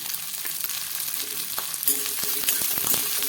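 Onion, garlic and four dried red chillies sautéing in a pan for chutney, a loud continuous sizzle with scraping stirs and sharper crackles building toward the end, no talking.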